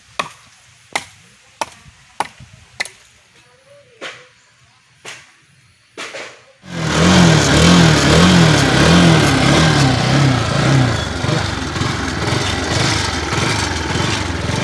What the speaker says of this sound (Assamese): বাইক আহি গ'ল